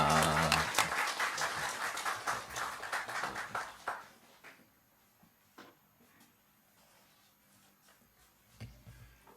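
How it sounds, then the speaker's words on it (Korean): A church congregation in Tokyo claps to welcome a guest professor who is coming up to preach. The applause is loud and dense at first, thins out after about four seconds, and trails off into scattered claps and shuffling. "우리 교수님 나오실 때 우리가 사랑과 정성의 박수로 함께 모시도록 하겠습니다"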